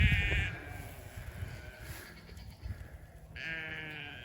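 Sheep bleat on a farm near an electric fence, with two loud, wavering calls at the start and end, separated by quieter rustling and faint background bleats.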